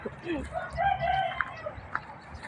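A rooster crows once at moderate distance, a drawn-out call over faint outdoor ambience in a fruit orchard in the morning.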